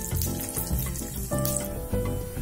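Urad dal frying in oil with mustard seeds and red chillies in a pan for tomato chutney, a steady close sizzle with bubbling, watery crackle running throughout, no voices.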